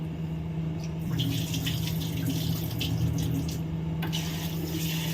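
A tap runs steadily with very hot water, splashing continuously into a sink at close range with a constant hiss.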